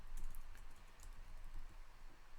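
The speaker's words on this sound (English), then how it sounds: "as I am typing that data in" Rapid typing on a computer keyboard, quiet and close, a quick irregular patter of key clicks with no voices.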